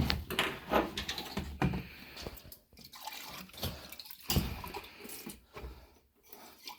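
Oil drips and trickles while the engine of a Mini R53 is being drained, irregular close splattering drops with quieter gaps between them.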